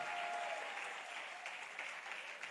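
A church congregation at a Sunday sermon breaks into dense, steady applause, many hands clapping together at moderate distance for a few seconds, with no voices standing out.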